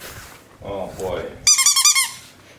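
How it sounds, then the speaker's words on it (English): Rapid rubbery squeaks from a dog's squeaky toy, about five quick loud squeezes in a burst near the end, following a woman's speech and some rustling handling noise. "It's a squeaky toy."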